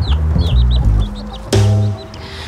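Chickens clucking and calling close by in a barnyard, a run of short busy clucks with one louder burst of squawking partway through, with no voices.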